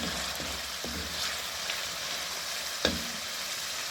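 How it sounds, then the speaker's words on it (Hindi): Masala of coriander powder and cumin powder sizzles and fries softly in a pan, with a steady hiss and a few light clinks of stirring. "अच्छी तरह भून लेंगे।"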